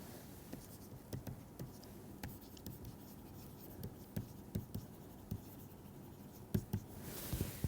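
Chalk or marker strokes during a materials science lecture, a steady run of short scratchy taps and strokes at close range with quiet room tone between them.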